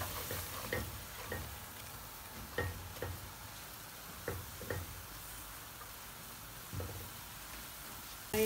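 A spoon stirs a béchamel base of flour and melted butter in a pan, making quiet scraping and soft ticking clicks at irregular intervals over a faint background hiss.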